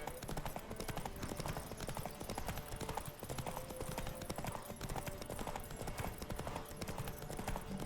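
Hooves gallop in quick, continuous clip-clop during a Witcher 3 horse race, a steady rhythmic pounding under dense game music and effects throughout.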